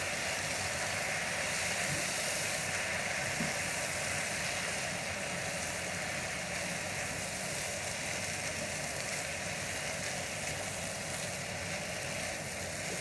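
A pan of vegan mushroom and spinach risotto bubbles and sizzles with a steady, even hiss throughout, close and moderately loud with no talking.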